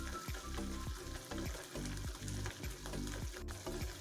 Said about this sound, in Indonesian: Tumis sampai harum dan wangi sampai masak dan meresap.